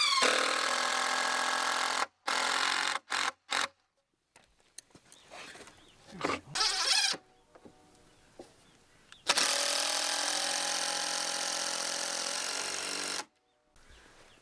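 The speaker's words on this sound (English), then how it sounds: "now I'm just going to screw together the top" A power drill drives screws into the tops of cut wooden rafter sections in bursty whirs, some short and some long, separated by quiet pauses.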